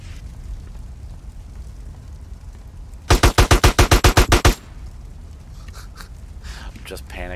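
Automatic gunfire in GTA San Andreas, a loud rapid burst of about ten shots in quick even succession, followed by faint scattered sounds and low background noise.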